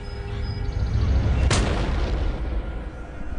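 A Revolutionary War Patriot marksman's rifle fires a single sharp, loud shot midway through a steady, low rumbling ambience.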